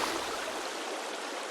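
River water in the video game Sons of the Forest flowing steadily to carry logs downstream, a soft continuous rushing stream with no voices.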